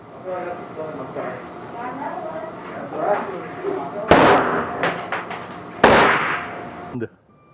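Two sharp, loud rifle reports from an MGM .30-30 Encore firing 200-grain cast bullets at an outdoor range, spaced a couple of seconds apart amid ambient background talk, each crack ringing briefly before fading.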